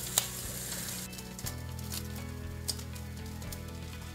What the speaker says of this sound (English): Sizzle, sizzle. We're gonna sear that for about 3 minutes.